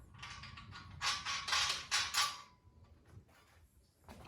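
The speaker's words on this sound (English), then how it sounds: "Just going to place the nuts and washer on the back." Nuts and washers go onto the bolts of a Central Machinery 12-ton shop press, a close, quiet run of metallic clicks, scrapes and small creaks with no talking.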